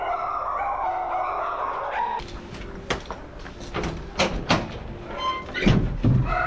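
A rescued puppy at an animal shelter barks in several short, sharp yaps spread unevenly over a few seconds, close by, with some clattering and background noise but no speech.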